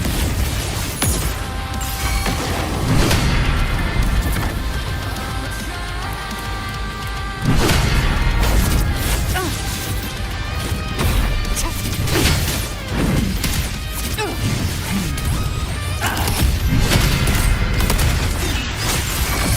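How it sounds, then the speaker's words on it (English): Mortar explosions and impacts in the video game Wuthering Waves, several heavy booms and crashes landing amid dense game music and effects, loud and close throughout. "Another mortar thrown at us"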